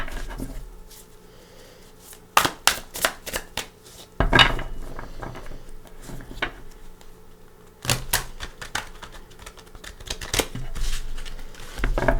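Tarot cards are shuffled in quick riffling bursts, two separate rounds of crisp fluttering snaps with quiet pauses between.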